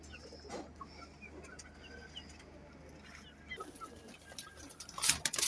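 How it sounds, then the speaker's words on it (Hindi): A flock of about thirty-five pigeons kept for sale gives faint, scattered calls over steady low background noise, growing a little busier and louder near the end. "ये सारे कबूतर हैं"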